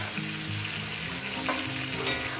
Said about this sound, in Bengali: ফুলকপিটা দিয়ে এবার আমি ভাজতেই থাকবো ছ মিনিট কি মিনিট ধরে ভাজতেই থাকবো